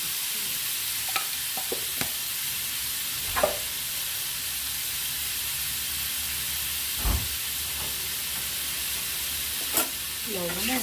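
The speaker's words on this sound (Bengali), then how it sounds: "পনিরগুলো 2 মিনিট নাড়াচাড়া করে ফ্রাই করে নেব।" Paneer fries in a pan with turmeric, salt, chili powder and pepper, giving a steady loud sizzle and hiss. Occasional scrapes and clinks come from stirring.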